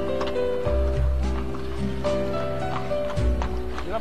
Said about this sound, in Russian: Повозки все для перевозки людей. Вот сейчас пошла пустая, вот сейчас идет полная повозка с людьми.